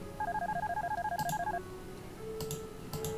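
Telephone dialing tones in the video game Darkness Within: a fast run of about fifteen warbling beeps, then a pause and a steady tone with a few soft clicks, clear and close with no talk.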